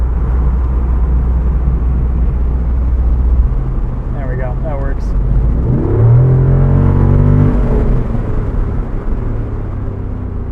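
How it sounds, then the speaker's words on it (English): A 2024 Jeep Wrangler 392 with its Hemi V8 gives a deep, steady low rumble while driving, loud from inside the cabin, swelling into a brief rev midway as someone talks briefly over it. "This Hemi is so deep that it almost sounds like you have music going on in the background with like bass rumbling"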